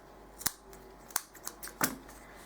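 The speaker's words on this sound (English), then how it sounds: "I'm just going to snip that" Scissors snip crochet yarn at the end of a round of broomstick lace, several crisp metallic clicks spread over a couple of seconds, close and alone.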